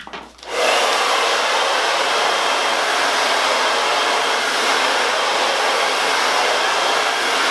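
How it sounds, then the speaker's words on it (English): After a brief click and spin-up, a hair dryer blows hair smooth, holding a loud, steady, close whoosh with no talking. "I'm just going to blow dry my hair one more time just to make sure that it's smooth enough"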